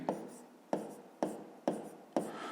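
Pen writing on paper while working a fifth-grade math exercise, heard close as five distinct scratchy strokes at a steady, regular pace.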